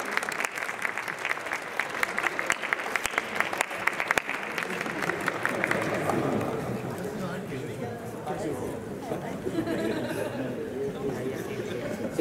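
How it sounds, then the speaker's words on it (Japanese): Spectators at an indoor national archery championship in a gymnasium give sustained applause for the runner-up, dense clapping that gradually thins into crowd chatter and murmuring. "第2位の宮本選手にも大きな拍手をお願いします。"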